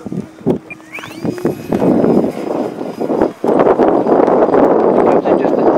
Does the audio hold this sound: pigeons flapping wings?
no